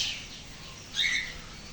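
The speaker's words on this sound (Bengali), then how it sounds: "ককাটেল পাখি সামথিং এটা।" Cockatiel chirps at a zoo inside Muzaffar Garden, a couple of bright, fairly close calls standing out around the middle over faint background noise.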